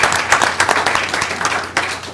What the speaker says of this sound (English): Let's give all of these wonderful students a round of applause.